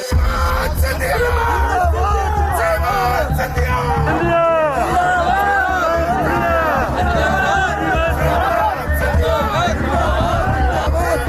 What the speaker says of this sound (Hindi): ये भीड़ देख सकते हैं किस तरीके की भीड़ जो है वो मौजूद है महिलाओं में